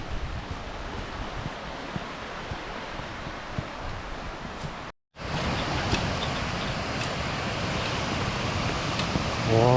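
Waterfall beside a mountain trail in autumn, a continuous broad rushing roar heard close and steady, briefly cut out midway before resuming just as strong.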